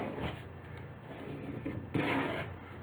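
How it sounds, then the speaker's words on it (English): Paper being burnished by rubbing after it is folded over, a close, steady dry scraping friction that runs throughout and grows louder in a firmer stroke near the end. "I'm going to turn it over and burnish it a little bit more"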